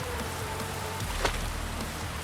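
Steady rain falls across an island in a video game, a soft continuous hiss of drops with no other sounds standing out.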